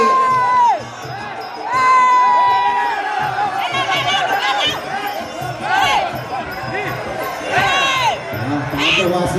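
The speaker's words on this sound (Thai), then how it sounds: "ว่าเสียงเชียร์นะครับ" A crowd at a provincial Thai boxing match cheers and shouts, with rising whoops and a loud, continuous roar of voices that swells and dips throughout.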